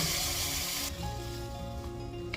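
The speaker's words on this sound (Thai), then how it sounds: "นำกระทะตั้งไฟแล้วก็ใส่กะทิลงไปนะคะ" Coconut milk goes into a hot pan on the stove for a massaman curry, a loud rushing hiss for the first second, then a softer, steady sizzle close by, with no voices.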